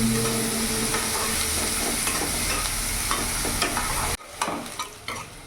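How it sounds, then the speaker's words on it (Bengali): Finely chopped onion with black cumin sizzles loudly in a frying pan as it is stirred, a continuous crackling hiss with scraping strokes, briefly dropping off before resuming more quietly. "ভালো করে ভেজে নেব।"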